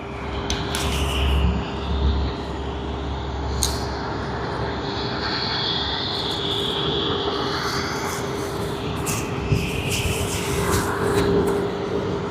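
A China Southern Airlines Airbus A350 arrives at Sydney Airport, its engine roar a steady, broad rumble with a low drone, heard from a distance and holding evenly throughout.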